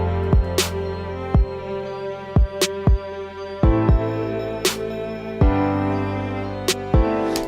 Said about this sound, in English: Now I added a clap on every other snare just to kind of add some accents,